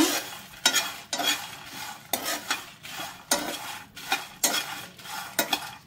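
Cashews and coconut pieces sizzle in a pan while a spoon stirs and scrapes in regular strokes, about one per second, close by.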